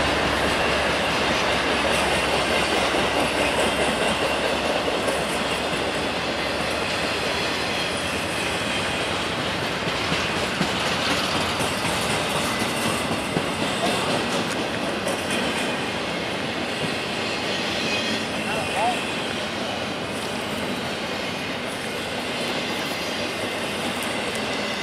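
A long intermodal freight train rumbles past close by in Ohio or Michigan, steady clattering of wheels and cars with occasional squeals, continuous and loud throughout.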